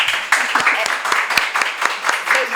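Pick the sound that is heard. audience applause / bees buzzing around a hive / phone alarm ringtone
audience applause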